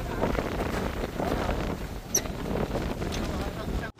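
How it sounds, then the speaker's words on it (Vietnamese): Strong wind buffets the microphone over a flooded rice field during the high-water season, a steady roaring rush with gusts and no clear speech. "Trời mưa gió quá thì gió luôn nè."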